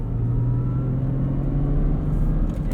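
A 2003 Lexus IS 300 with a 5-speed manual drives along, its engine a steady low rumble mixed with road noise heard from inside the cabin, continuous and fairly loud with no talking.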